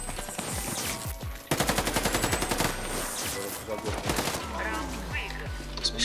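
Rifle in the video game Warface fired from the hip in rapid automatic bursts, loud and close, with sharp repeated shots over game ambience and brief talk.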